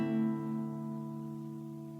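Guitar sounds a single bass note followed by a chord for the Grade 1 piece Mona Lisa, open strings ringing clearly and close, then decaying steadily with no talking.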